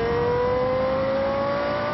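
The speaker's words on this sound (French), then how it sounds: "Vincent se lance enfin au volant de la Formule 1" A Formula 1 race car engine whines at a steady, slowly rising pitch, heard from a distance at moderate loudness as the driver works through the gears, with no talk.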